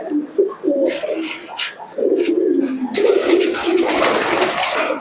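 Giribaz pigeons coo in a loft, a close, steady run of soft rolling coos overlapping one another, with rustling and wing noise rising partway through.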